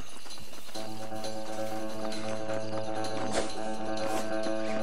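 Horse hooves clip-clop steadily in Red Dead Redemption, a rhythmic close trot under a sustained humming musical tone, with no talk.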